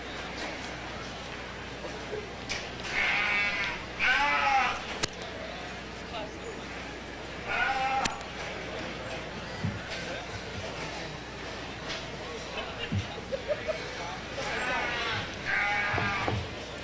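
Dorper sheep bleat repeatedly in a lightweight class at a livestock show ring, several distinct calls rising over a busy indoor arena murmur, with an announcer talking at times.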